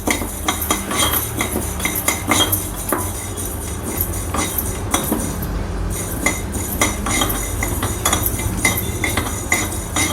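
Fenugreek seeds for lemon pickle roasting dry without oil in a pan, stirred with a metal spoon that scrapes and clinks steadily against the metal pan, loud and close.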